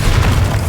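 Bombarda spell blast from Hogwarts Legacy, a video game: a short, loud, booming low-end explosion with dense rumble and no talk over it.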